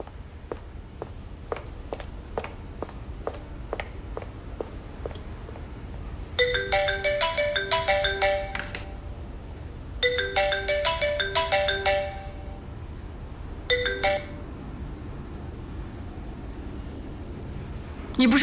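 A mobile phone ringtone plays in repeated melodic bursts after several seconds of footsteps, ringing close and clear in three separated phrases with quiet room sound between.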